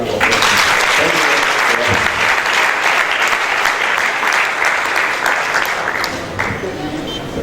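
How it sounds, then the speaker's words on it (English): Audience at a geography alumni lecture and award ceremony applauds loudly and steadily, a dense wash of many clapping hands that carries on for several seconds before thinning out at the end. "Please let's give him another round of applause."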